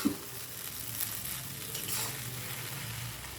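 Noodles with vegetables and egg are stir-fried in a pan, making a faint steady sizzle with soft scraping and stirring sounds, quiet and close, with no voices.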